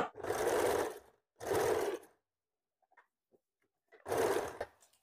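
A sewing machine stitches a blouse sleeve in three loud, steady runs, each roughly a second long. The last run follows a quiet pause filled with a few faint ticks and handling clicks.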